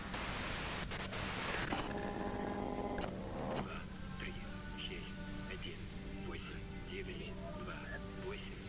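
A wash of hiss and static fills the start, then cuts off abruptly, leaving a faint hum and soft murmuring voices beneath, in the video game Disco Elysium.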